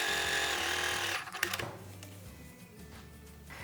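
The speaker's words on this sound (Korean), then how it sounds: "이제 겉감을 봉제해 볼게요" A sewing machine stitches outer mask fabric in a fast, steady mechanical whir up close, then stops with a few clicks and clatters before a low hum remains.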